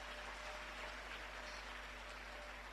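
A church congregation claps together in worship, a dense continuous patter of many hands sustained evenly at low volume under a faint background hum.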